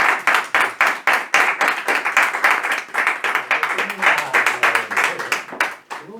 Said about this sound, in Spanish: Pues un aplauso para nuestro...